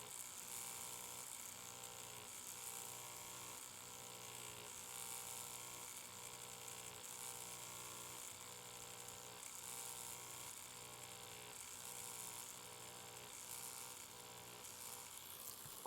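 A tattoo machine needle buzzes steadily while tapering back and forth over skin, a continuous close electric whine with a faint hum underneath, no talk.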